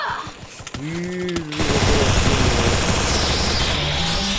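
Rapid automatic gunfire in the shooter game Free Fire, a dense sustained burst of loud game weapon shots following a few brief tonal game sounds, close and alone with no talk.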